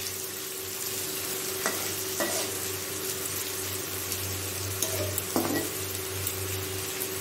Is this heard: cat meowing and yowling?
no